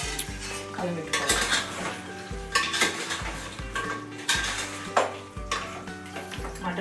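A spoon scrapes and clatters around a metal pot of simmering mutton curry, giving steady rhythmic stirring clinks with a faint sizzle underneath, close up and with no voices.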